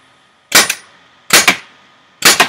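A Tippmann TCR paintball marker fires three sharp, loud pops spaced under a second apart, each a crisp double-edged crack with a short tail, in otherwise quiet surroundings.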